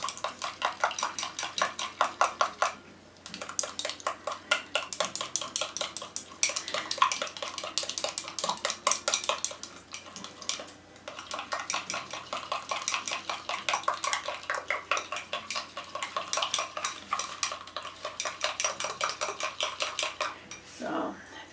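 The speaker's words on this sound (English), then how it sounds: "Then you mix water in. Don't rush it. Make sure you mix it well" A utensil stirs acrylic paint mixed with water inside a cup, producing rapid, rhythmic clinking and scraping in quick repeated bursts with short pauses, close and fairly quiet.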